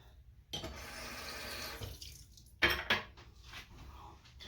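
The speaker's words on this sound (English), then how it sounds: "I don't like to run my water the whole time." Water runs from a tap for a couple of seconds, then dishes clatter and clink in a sink, with more splashing after.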